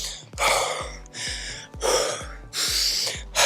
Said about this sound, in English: How I'm breathing right now? I'm out of breath.